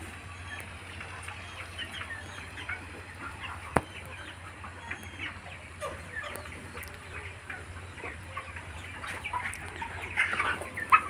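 Young broiler chicks about 35 days old clucking and peeping steadily in a poultry shed, a soft continuous chorus of many birds with occasional louder calls near the end and a low hum underneath.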